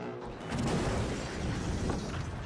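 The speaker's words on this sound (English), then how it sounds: "Just hear a large explosion." A large explosion in the video game The Finals: a dense, sustained roar of blast and scattering debris that fills the whole clip at moderate level, with no voices over it.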